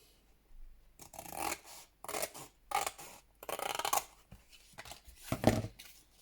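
Scissors slice through household cardboard box material in several separate bursts of rasping cuts, each lasting about half a second to a second with short pauses between, close and moderately loud with no voices.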